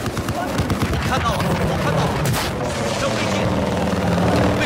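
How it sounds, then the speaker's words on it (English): An attack helicopter in the video game Battlefield roars steadily amid a battlefield din, with rotor thrum and booming explosions layered throughout at close, loud range. "They have an attack chopper."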